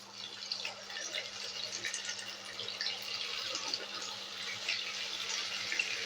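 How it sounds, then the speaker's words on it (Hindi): Wheat flour snacks dipped in slurry fry in hot oil, a continuous bright hiss and crackle with a steady low hum underneath. "इसे इसमें डिप करना है और इसे इस तरीके से गरम तेल में डाल देना है।"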